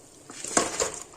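Fresh mutton pieces dropped into a cooking pot with oil for mutton curry: a couple of brief metallic clinks and soft thuds close by, fairly quiet, with no talk.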